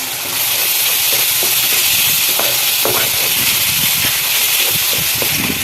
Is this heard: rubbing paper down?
no